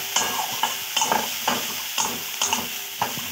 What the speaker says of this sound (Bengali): এবারে দিয়ে দিচ্ছি টমেটো কুচি।